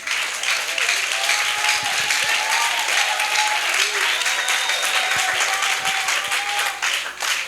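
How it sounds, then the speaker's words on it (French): Church congregation applauding Jesus during a worship service, a loud, steady wash of many hands clapping that fills the room, with cheers and voices mixed in throughout. "Je dis d'acclamer Jésus"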